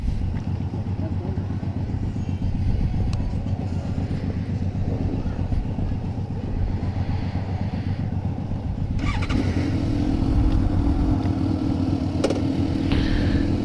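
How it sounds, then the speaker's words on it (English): Suzuki GSX-S 750 inline-four motorcycle on a first ride, a steady engine drone with rising revs toward the end, heard close alongside continuous talking. "Here we're going to try the GSX-S 750."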